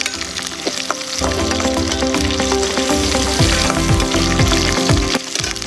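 Dried red chillies, garlic and curry leaves hit hot oil for a dal tempering, giving a loud, steady sizzle and crackle with occasional pops that continues for several seconds before easing off.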